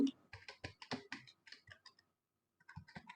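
A computer keyboard is typed on up close in quick bursts of crisp clicks while a heading is entered, with a short pause before a few more keystrokes.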